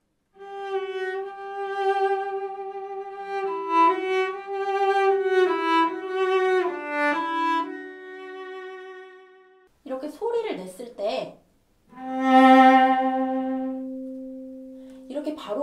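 A Korean handmade cello with separately built top, sides and back, played solo in sustained bowed notes and short phrases, clear and close, with a brief pause midway and no talking.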